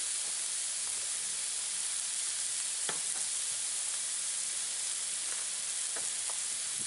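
Steady, loud sizzling of vegetables and meat frying in a hot pan, a continuous hiss with a few faint clicks and stirs.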